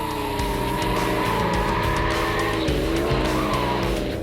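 A Factory 5 replica Shelby Cobra roadster roars through a timed run, its engine loud and close with gear changes and tires squealing as it is pushed hard, with no talk.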